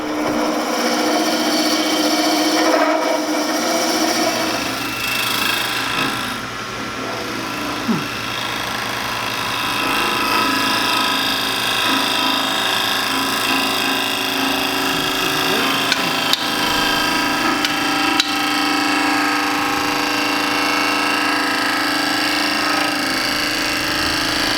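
Wood lathe turning a tenon on a blank of epoxy resin and wood, a continuous loud whirring hum with scraping, rasping tool contact running throughout, no talking.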